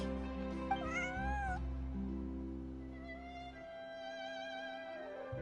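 Cat in the Genshin Impact video game giving a few clear meows over a sustained, droning musical background, close and fairly soft.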